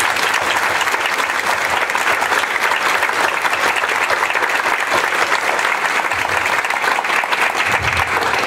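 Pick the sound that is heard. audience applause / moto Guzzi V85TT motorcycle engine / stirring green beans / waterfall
audience applause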